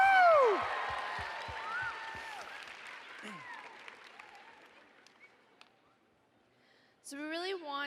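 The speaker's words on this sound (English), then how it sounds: "Let's give another round of applause for Shea Emry" Applause and cheering from a conference audience for Shea Emry, loud at first and then fading away over several seconds, followed by a brief voice near the end.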